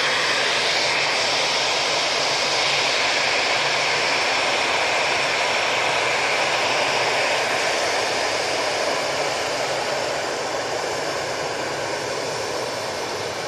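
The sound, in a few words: EasyJet airliner jet engines on departure to Belfast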